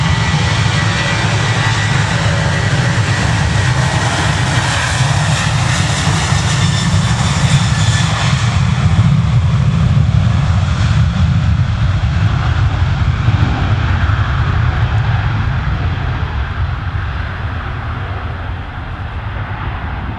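Airliner engines at Manchester Airport hum in a loud, steady drone as the plane taxis, with a broad low rumble and a smooth whine holding throughout without a break, and no talking.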